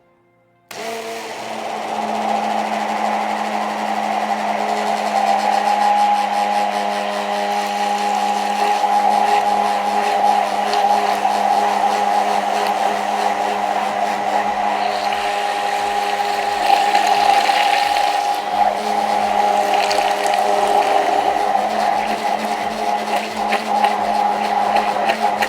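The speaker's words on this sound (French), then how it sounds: "Et on mixe. Ça va faire du bruit." Immersion blender whirring steadily while mixing onigiri ingredients, a loud continuous motor drone with a constant tone that holds for the full stretch, its pitch and intensity shifting slightly toward the end.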